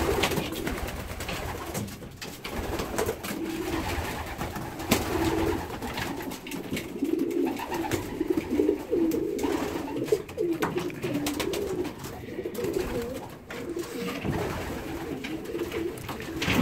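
Male racing pigeons coo inside their loft during a cold spell, with soft, repeated throaty coos and low murmuring that continue throughout, close and fairly quiet.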